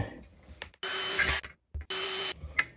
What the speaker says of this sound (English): let's go ahead and drill these pilot holes